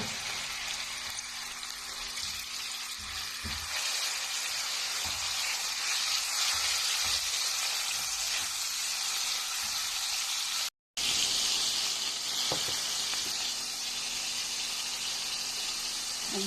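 Chicken breast pieces, washed and cut, frying in hot oil in a pan on the stove, a steady loud sizzle that runs the whole time with a brief break, with small clinks and stirring sounds underneath.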